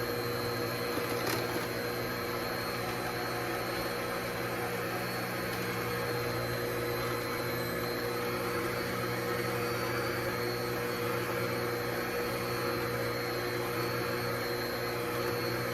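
Electric mixer whirring steadily through pound cake batter as sugar is mixed in, a constant motor hum with high tonal whine and no breaks, close and alone.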